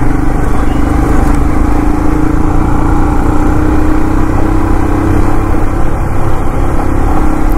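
Royal Enfield Himalayan 450 motorcycle riding in third gear at around 60, a loud continuous engine drone with steady low rumble and wind roar, close to the microphone, without speech.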